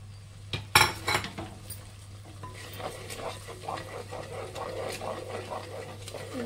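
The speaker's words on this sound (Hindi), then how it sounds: "इसको भी अच्छे से मिक्स करेंगे और इसी में डालेंगे टमाटे और प्याज का पेस्ट" Fish curry being stirred in a pan as tomato and onion paste is mixed in, with a few sharp utensil clinks and scrapes near the start, then a steady low sizzle and soft stirring strokes.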